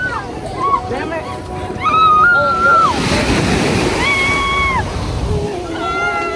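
Ocean waves wash onto a beach in a continuous rushing surf with wind buffeting the microphone, while people talk nearby and a high, meow-like voice cries out over the water.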